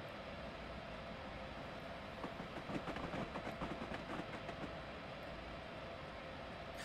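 A train in Train Simulator rolls over tracks near Washington and Baltimore, a steady rumbling drone with a stretch of rhythmic clickety-clack as wheels cross a switch, continuous and moderately quiet.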